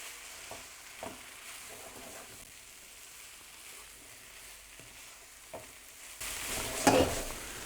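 Mexican rice being stirred in a pan after a splash of vinegar, with faint scraping and soft sizzling, a few light utensil knocks, and a louder burst of stirring near the end.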